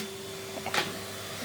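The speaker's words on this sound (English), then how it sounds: "I'm just going to vacuum up these petals off here." Vacuum cleaner running steadily in a working greenhouse conservatory while sucking up fallen petals, a continuous whine with a brief louder rattle partway through, fairly quiet and with no talk.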